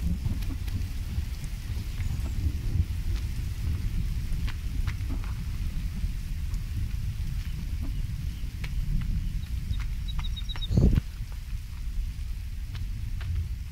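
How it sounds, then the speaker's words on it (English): Steady, dense rain falls throughout in the video game Bloodborne, with a brief rumble of thunder near the end and no talking. "now it's gonna freaking rain"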